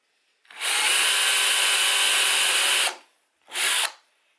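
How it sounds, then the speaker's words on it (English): A power drill driving screws whirs loudly for about two and a half seconds, stops, then gives one more short burst, close by with no voices. "let's drill the other one"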